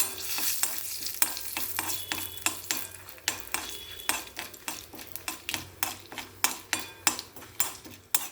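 Asafoetida and a single dried red chili fry in hot oil in a pan, a soft sizzle under regular, close scraping and clinking strokes of a metal spoon stirring against the pan.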